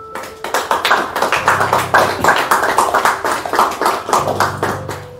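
Church congregation claps for a woman in a French-language service; loud, steady rhythmic handclapping from many people continues without pause, close and dense, with no talk over it.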